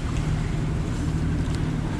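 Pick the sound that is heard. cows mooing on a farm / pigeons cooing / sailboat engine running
sailboat engine running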